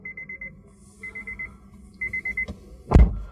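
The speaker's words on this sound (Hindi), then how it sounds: "लेकिन क्योंकि डोर हल्का सा अभी अनलॉक है इसलिए आपको अलार्म बजता जा रहा है।" A Honda Civic's door-open warning chimes in three quick bursts of rapid beeps spaced about a second apart, followed by a sharp click and a heavier thump like a car door shutting nearby.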